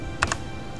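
Two quick, light key clicks on a computer keyboard, close and soft against a quiet room hum.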